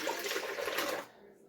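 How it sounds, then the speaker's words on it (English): Half a gallon of raw, partly skimmed milk pours steadily in a close, soft liquid rush, stopping abruptly after about a second and leaving near silence. "And then I'm going to pour in this milk"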